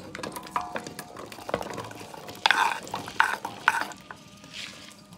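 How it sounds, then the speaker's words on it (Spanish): Potatoes cooking in a little oil in a clay cazuela, with soft sizzling and scattered clinks and scrapes of a utensil against the pot, close and moderately quiet throughout. "Nada más un chorrito para freír la verdura. Y primero vamos a poner las papas."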